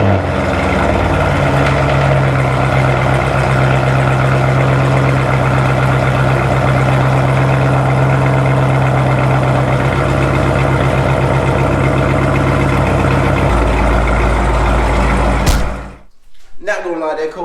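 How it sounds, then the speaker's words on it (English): Loud, raw engine roar from a catless, straight-piped Camaro ZL1 with headers on a cold start, a steady rumbling idle that cuts off abruptly near the end, followed by brief mixed noise. "this is gonna be our last straight pipe cold start"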